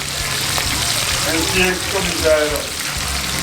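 Red snapper fries in hot oil in a pot at a small roadside hut in Jamaica, with a loud, continuous crackling sizzle and some bubbling up close as people talk nearby.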